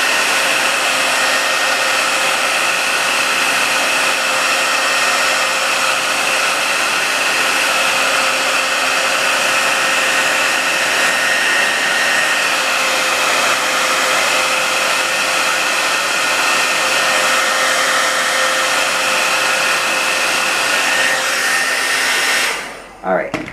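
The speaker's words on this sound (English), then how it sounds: "You want to heat up, get your blow dryer out." A blow dryer runs continuously, heating a vinyl doll. The steady, loud whooshing hum lasts about twenty-three seconds without a break, then is switched off abruptly at the very end.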